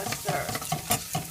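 Pav bhaji masala stirred through hot oil in a pan, giving a steady close sizzle with rhythmic scraping strokes roughly every quarter second, no voices.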